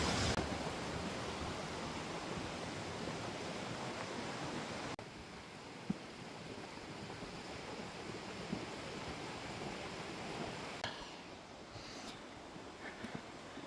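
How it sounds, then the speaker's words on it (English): Stream water rushing just below Arch Rock on the Alum Cave Trail in the Smokies, a steady, loud, broadband wash that runs unbroken throughout, with slight shifts in level partway through. "I don't know if you can hear me because there's water right below me"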